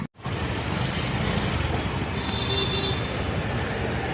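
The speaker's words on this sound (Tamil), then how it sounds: "பயங்கர டிராஃபிக் எங்கே பார்த்தாலும் டிராஃபிக்" Heavy road traffic in Chennai: a dense, continuous rumble of engines and tyres close around, steady and loud with a faint high whine partway through and no talking.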